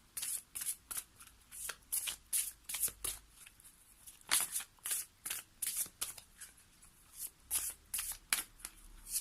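Oracle cards shuffled by hand before one is drawn, a quick rhythmic run of soft riffling slaps repeating close and alone for several seconds.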